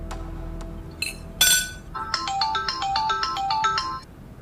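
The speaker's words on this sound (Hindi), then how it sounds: "अंबर का फोन?" A phone rings with a bright melodic ringtone after a couple of clinking knocks, the tune repeating its short phrase clearly and alone in a quiet room.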